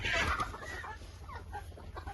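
Chickens at a poultry farm selling pullets, clucking loudly and close at first, then trailing into softer, scattered clucks and calls from the flock.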